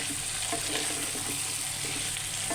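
Cauliflower tossed with spices in a hot frying pan for a cauliflower and rohu fish curry: a steady close sizzle with soft scraping and stirring strokes, no voices.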